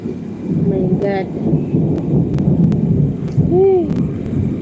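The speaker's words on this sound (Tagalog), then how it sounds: "Kasi ang lakas ng ano. Kulog tiglat." Loud thunder rumbles low and continuously through a rainstorm, with rain hissing steadily underneath and a couple of brief vocal exclamations breaking in.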